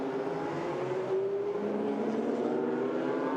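GT race cars of the SRO GT Cup at Zhuhai pass on track, a steady loud engine drone with shifting pitch as the front runners come through and one car moves aside.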